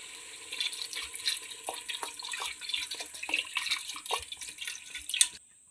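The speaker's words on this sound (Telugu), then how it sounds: "కొన్ని వాటర్ వేసుకుందాం" Water splashes and trickles into a pan for several seconds with small drips and clinks, then cuts off abruptly.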